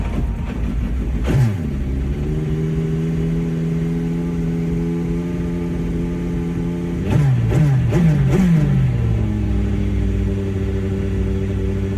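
A VK45D V8 swapped into a GT-R in Gran Turismo 7 idles with a steady low drone, then blips the throttle in three or four sharp revs before settling back to idle, loud and close with no talk.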